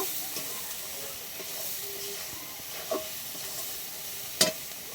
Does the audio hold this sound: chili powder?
yes